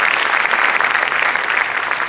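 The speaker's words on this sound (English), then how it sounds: "So let's give a round of applause to thank all of our judges," An audience at a university startup competition awards ceremony gives a brief burst of dense, steady clapping that fills the hall.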